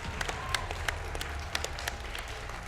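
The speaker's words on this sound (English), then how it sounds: "Yes, please, a round of applause for our players for giving us an excellent show." Audience at the VRML Con 2023 Blaston finals applauding the players, a sustained patter of claps from a modest crowd at moderate volume, with no speech.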